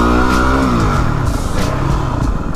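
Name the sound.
WR250R off-road motorcycle engine revving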